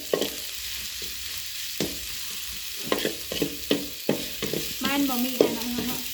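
Fish is being stir-fried for a spicy Thai-Lao fish stir-fry, giving steady pan sizzle with repeated scraping stirs and clanks of a spatula, close and moderately loud, with no talking.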